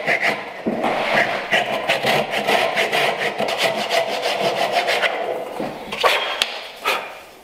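Hand saw cutting wood for a bridle joint: a steady run of close rasping strokes, each back-and-forth pass audible as the blade bites the workpiece, pausing briefly near the end before a few final strokes.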